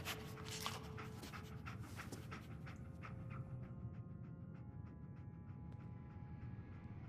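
Dog Dogmeat panting in Fallout 4, rapid rhythmic breaths repeating steadily and close, sustained throughout over a faint game background.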